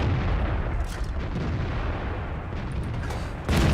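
Heavy gunfire from a tank battle in World of Tanks, a dense, loud wash of booming cannon and explosion noise running throughout, with a sharper blast near the end.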